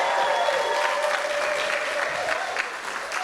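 Crowd at a trans pride awards event in Washington DC applauding and cheering, a dense continuous wash of clapping with whoops, sustained across the whole stretch.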